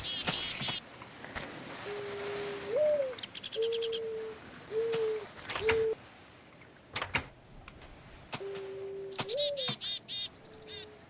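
Parrots in Minecraft chirp and mimic other mob sounds in a scattered series of tonal calls, whistles and clicks, with steady pitched tones and brief sharp noises spread across the stretch.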